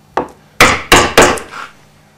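Gouge striking into elm wood during carving, likely driven by a mallet: one lighter knock followed by three loud, sharp thwacks about a third of a second apart, then a softer final tap, close and clear with no talk.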